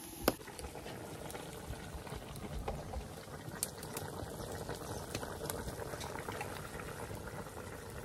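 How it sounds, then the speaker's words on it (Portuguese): Meat simmering in a boiling pot for lunch on a small farm, a steady close bubbling and churning roar with a few sharp pops and clicks, no voices. "carninha cozinhando"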